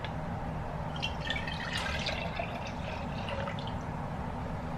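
Water is poured into a measuring cup, a steady close splashing trickle that fills the cup over a few seconds against low kitchen background noise.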